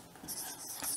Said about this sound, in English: And here we write preparation of